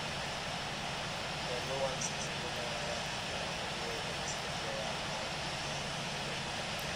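Steady engine drone of an airliner taxiing in the flight simulator Infinite Flight at Singapore, holding a constant hum with no breaks.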